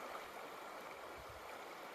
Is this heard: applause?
no